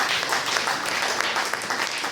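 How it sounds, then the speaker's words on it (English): Steady applause from a gathered audience at a Ministry of Environment press briefing, moderately loud and continuous, with a few individual claps standing out. "deserves a better round of applause"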